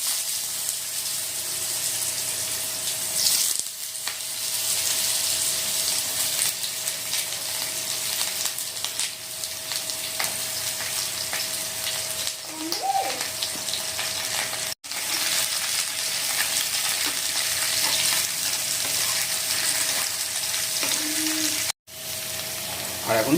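Sliced ridge gourd frying in hot oil with nigella seeds, a steady close sizzle and bubbling hiss that continues throughout, with a few brief stirs and clatters and no talk.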